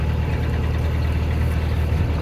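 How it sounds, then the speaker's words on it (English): A car engine runs close by with a steady, low, rumbling drone, holding an even level throughout without distinct rises. "think I'll give myself a couple more revs"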